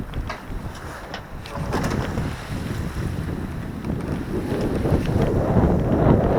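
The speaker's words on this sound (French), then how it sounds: "On a des petites rafales autour de 15 nœuds, entre 10 et 15 nœuds." Gusty wind of about 10 to 15 knots rushes around a sailboat, buffeting the microphone over a low rumble of water, building steadily stronger toward the end.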